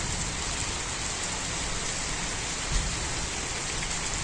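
Steady rain pours down in a dense, even hiss that holds at the same level throughout, with no voices.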